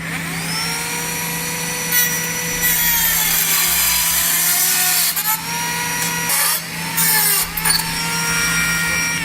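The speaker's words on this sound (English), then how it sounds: "I'm going to come back using my Dremel tool with a cutoff blade, and I'm going to cut all the excess handles off of my handle nuts." A Dremel rotary tool fitted with a cutoff blade cuts through excess bolt handles, a high whining grind with rising and falling pitch as the blade bites and eases off, close and loud with brief pauses.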